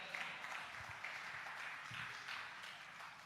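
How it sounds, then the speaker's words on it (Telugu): A church audience applauding together, a steady wash of many hands clapping at moderate distance that holds for several seconds and fades slightly at the end. "చప్పట్లు కొట్టగలరు ఒకసారి?"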